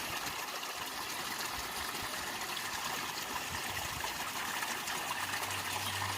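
Water runs and trickles steadily in a garden pond, a continuous gentle wash with a faint low hum underneath, no voices.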